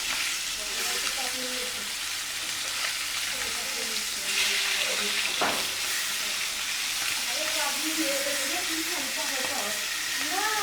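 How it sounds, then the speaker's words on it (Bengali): Pangas fish sputters and sizzles steadily in hot oil, a constant crackling hiss with occasional sharper pops, close up. "আর পাঙাশ মাছটা এত ফুটা ফুটতেছে"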